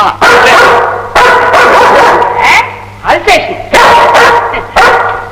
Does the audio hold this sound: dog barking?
yes